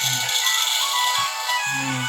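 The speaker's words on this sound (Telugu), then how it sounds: "ఫోన్ వచ్చే మళ్ళీ" A phone ringtone sounds in repeating bursts with short pauses, over a steady hiss of background noise.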